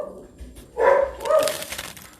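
A pet dog gives a couple of short whining barks or yips in a home kitchen, fairly close, over a quiet room background.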